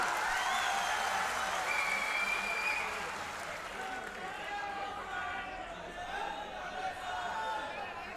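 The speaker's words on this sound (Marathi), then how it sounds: "दादा आलेले आहे जोरदार टाळ्या वाजून स्वागत करा" Crowd applause welcoming a guest at a Maha Vikas Aghadi political rally in Amravati: dense, sustained clapping from a large gathering, swelling early and then easing, with an amplified voice speaking over it.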